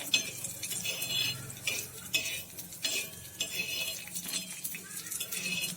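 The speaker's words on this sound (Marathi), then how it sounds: "हे हरभऱ्याचे दाणे आपल्याला भाजून घ्यायचे" Green chickpeas roast in a little oil in a pan while a spoon stirs them, giving a steady close scraping and soft sizzle with light clinks of utensil on metal throughout.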